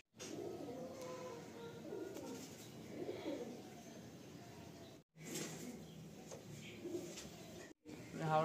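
Madrasi pigeons cooing in soft, low rolling calls, fairly close, over a continuous background with two short breaks.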